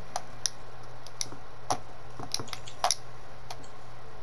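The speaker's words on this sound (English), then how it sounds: "Are you using your keyboard?" Computer keyboard keys clicking during a Minecraft speedrun, a sparse, irregular run of light taps and clacks close to the mic over a faint steady hum, with no talking.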